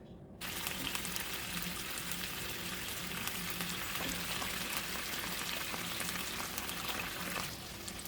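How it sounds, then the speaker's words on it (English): Pork ribs drop into hot oil in a pan and start to fry, starting a dense, steady sizzle with crackling pops that holds for several seconds before easing slightly at the end. "So now we're going to transfer our ribs into this pan."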